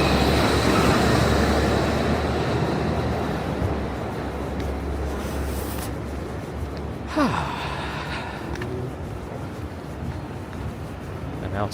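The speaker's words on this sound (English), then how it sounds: "Sorry the train drowned everything out." Train crossing the Williamsburg Bridge in New York, a steady loud rumble and metallic roar that fills the scene and slowly eases off, with a brief squeal partway through.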